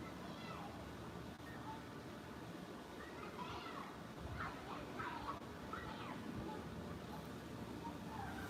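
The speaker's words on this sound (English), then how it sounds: "there's a park behind me, so y'all hear kids screaming." Children shout and squeal in a park a short way off, faint and scattered high cries over a low constant rumble of traffic and outdoor ambience, with some nearby talk mixed in.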